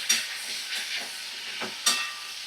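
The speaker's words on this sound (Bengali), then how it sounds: "দেখো, আমি এখনো ভাজা করছি।" A green chili fries in a little oil, giving faint, intermittent sizzling hisses that flare in a few short bursts as it is stirred.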